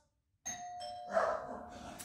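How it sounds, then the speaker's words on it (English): A doorbell chimes twice, a clear ding-dong ringing out after a moment of silence, with a faint rustle behind it. "ring the doorbell"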